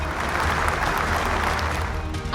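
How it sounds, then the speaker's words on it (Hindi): Crowd applause welcoming a contestant at a church family Bible quiz event, dense and continuous clapping over a heavy low hum from the hall's sound system, brief and steady. "तो जोरदार तालियों से स्वागत करिए मिस्टर मिंज का"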